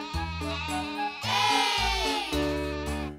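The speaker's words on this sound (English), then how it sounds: "Eight sheep." Cartoon sheep bleating several times in a row, loud and close, with wavering drawn-out calls and short pauses between them, in a children's counting cartoon.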